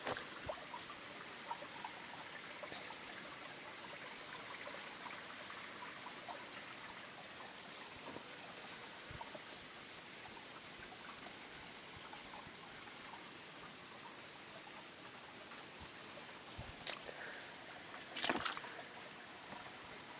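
Creek water trickling steadily over rocks at an old creek above a waterfall, being diverted, a continuous close wash with a faint hiss, a couple of brief knocks near the end, no one talking.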